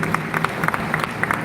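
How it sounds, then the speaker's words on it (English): An audience claps for students at a Nigeria Police Force and stakeholders forum; a brief burst of scattered, fairly close hand claps forms an uneven rhythm throughout. "Please help me clap for them."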